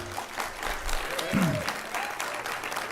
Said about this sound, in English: let's hold the applause and the hoot and hollering down to a bare minimum, please